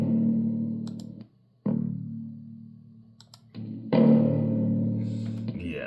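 Sustained electric bass guitar notes with delay and reverb ring out with a washy, echoing tail, separated by brief gaps and a few clicks, ending on a brighter, fuller note.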